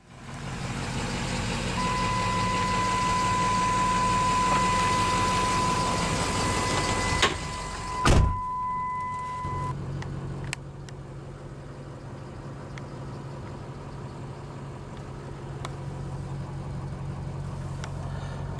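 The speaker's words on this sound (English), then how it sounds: "the aforementioned 6-liter Powerstroke turbo diesel V8 found in this truck" A 2007 Ford F-350 Super Duty with the 6.0-liter Powerstroke turbo diesel V8 idles with a steady low rumble, while a sustained electronic chime and a few clicks sound midway, after which the idle quiets slightly.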